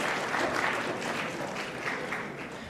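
An audience at a forum on millennials and the new economy applauds steadily, a dense wash of clapping that holds at an even level throughout with no talk over it.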